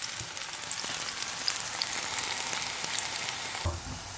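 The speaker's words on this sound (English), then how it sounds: "so we're gonna fry this plantain, and every so often turn it over" Plantain frying in hot oil for a Nigerian-style beans and corn dish, a steady soft sizzle and crackle with light pops, ending in a brief clunk as a fork turns the pieces over.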